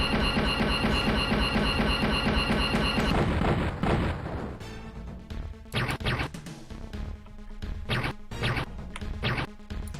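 Rapid automatic gunfire in the 1992 DOS shooter The Terminator 2029, a dense stream of loud bursts and impacts over game music, then breaking into separate short volleys with gaps between them.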